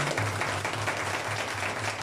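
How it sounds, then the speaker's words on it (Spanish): Audience applause at a birthday celebration with a youth mariachi band, a steady dense patter of many hands at moderate level with a faint low hum running beneath it throughout. "A ver, fuerte ese aplauso, por favor."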